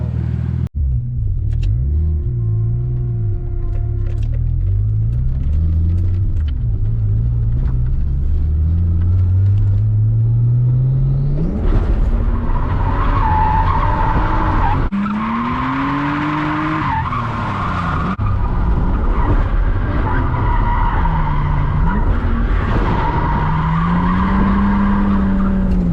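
A Nissan 240SX drifts around a track, tires squealing in long sweeping skids while the engine revs rise and fall across repeated slides, close and loud with no talk.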